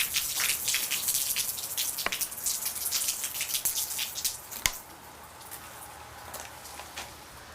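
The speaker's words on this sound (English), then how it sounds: "This is what happens when you do pour water on the melon." Water splashes and drips onto a melon, with a steady spattering wash of droplets and a few sharper single drips standing out, close and moderately loud with no talk.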